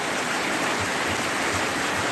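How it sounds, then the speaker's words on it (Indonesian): Steady rain falls at night over the town of Calang in Aceh Jaya, a loud, dense, continuous hiss of water with no voices or breaks. "inilah suasana hujan yang melanda Kota Calang"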